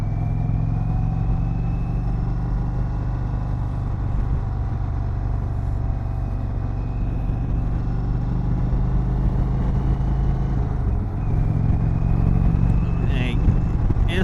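Indian Chieftain Dark Horse motorcycle engine in sport mode, a deep continuous rumble under wind noise, rising in pitch as it accelerates, loud and close, with a rider talking over it.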